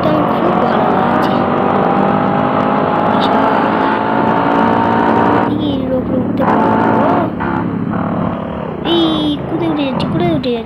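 Motorbike engine in the India Bikes Driving 3D video game, a continuous revving whine that rises and falls in pitch as gears change, with a man chatting over it.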